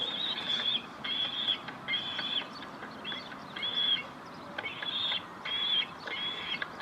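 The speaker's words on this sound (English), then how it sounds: "Sounds like there's a seagull chick struggling up there somewhere." Repeated high, thin calls, likely from a seagull chick, ring out in short bursts about every half second to second, moderately distant and faint against a steady outdoor background hiss.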